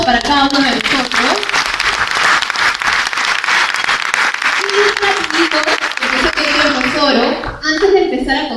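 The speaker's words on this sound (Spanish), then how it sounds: "Así que un aplauso para cada uno de nosotros." Audience applause at a business presentation event: loud, sustained clapping from a crowd, with voices and cheering layered over it, dipping briefly before swelling again near the end.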